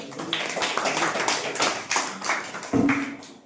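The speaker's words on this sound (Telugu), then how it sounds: "క్లాప్స్ కొట్టండి." A group of children clapping at Sunday school to welcome a guest, scattered uneven claps and taps with a murmur of voices underneath, ending in a louder closer clap.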